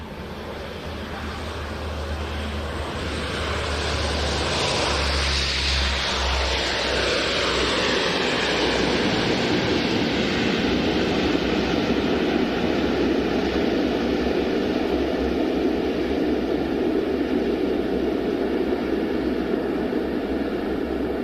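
A Polish Air Force C-130 Hercules arrives at the Royal International Air Tattoo, its turboprop roar building over the first few seconds into a loud, sustained, steady drone with a sweeping tone as it passes.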